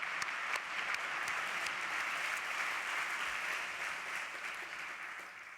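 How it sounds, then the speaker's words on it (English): An audience at an award event applauds a new colleague, broad steady clapping from a crowd that fades slightly toward the end, with no speech over it. "A big round of applause for him."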